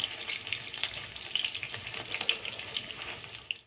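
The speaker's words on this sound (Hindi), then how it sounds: "अब पलट के लाल कर लीजिए उसके दूसरी साइड से" Paneer cubes fry in a hot pan with oil, giving a steady, bright sizzle sprinkled with small crackles and pops throughout, close and continuous with no talking.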